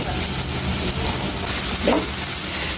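Tandoori-spiced apple slices roast in a hot pan, giving a steady, even sizzle with no talking.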